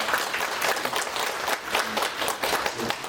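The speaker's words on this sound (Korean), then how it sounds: "여러분 큰 박수 부탁드립니다." Crowd applause at a financial forum, loud and close with distinct individual claps pulsing within a steady roar of hands.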